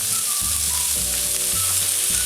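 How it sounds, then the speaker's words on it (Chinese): Chicken wings browning in a shallow film of peanut oil over gentle heat crackle and sizzle steadily and close up, a constant frying hiss with small pops and no voices. "煎这个鸡翅慢火一点，"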